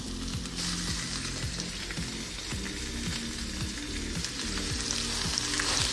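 Redfish fillets fry in oil in a pan, making a loud, continuous close-up sizzle with light crackle over a low musical background and no voices.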